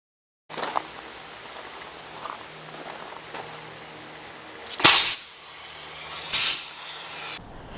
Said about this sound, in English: It's a knife with a CO2 cylinder to inject a huge ball of freezing gas.